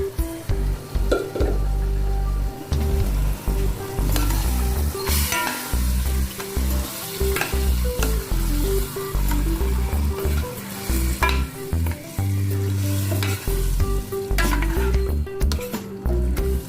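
Mung beans for a sautéed mung bean and beef rib stew are stirred in a cooking pot, with steady scraping and shuffling over a continuous loud sizzle, close up and without talk.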